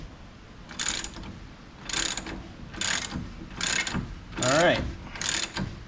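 Ratchet loosening bolts on a Polaris General wheel hub during wheel bearing work, six separate bursts of close clicking at a steady pace, with a brief spoken remark.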